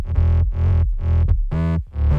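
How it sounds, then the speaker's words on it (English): Heavily distorted sub bass built from two sine-wave layers an octave apart, playing a rhythmic run of loud sustained notes with short gaps, gritty harmonics stacked over a deep low end. "This is pretty simple sub bass."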